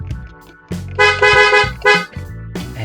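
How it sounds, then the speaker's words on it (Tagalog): The car horn of a 2006 Honda City honks in two short bursts, loud and close, with a third beginning at the end, between quieter engine idle and handling noises. "So unang test, parinig ko muna sa inyo yung busina."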